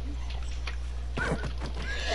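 A horse neighs in a video game, one whinny rising over a steady low hum and faint voices before it, followed by a brief clip-clop shuffle near the end.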